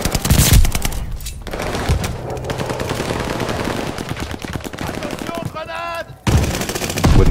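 StG 44 rifle fire in the World War II shooter Call of Duty Vanguard, loud rapid bursts of automatic gunfire with sharp cracks, brief pauses and a short metallic reload-like clatter near the end.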